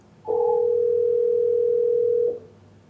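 A steady single-pitch tone from an Asterisk phone system plays for about two seconds after a voicemail number is dialed, loud and clean with nothing else over it.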